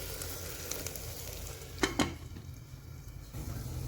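Onions fry with salt in a pan, a continuous close sizzle with two quick utensil clicks in the middle.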